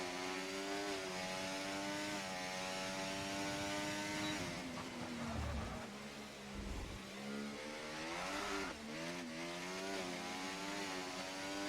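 Race car engine in a sim racing game at the Singapore Street Circuit during qualifying, a loud sustained high-revving whine with shifting pitch as the rear end slides out, the engine note dipping and surging through corners.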